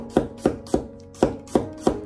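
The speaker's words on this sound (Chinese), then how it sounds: "然后剁成蒜末" Kitchen knife chopping garlic into fine mince on a cutting board, six sharp, evenly spaced chops with a brief pause midway, close and clear, no talking.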